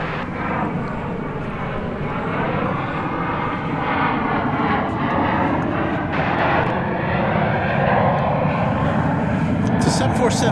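A jet airliner on flight 751 to Louisville moves at DFW Airport at night, loud sustained engine roar with wavering tonal whines building gradually and swelling louder toward the end.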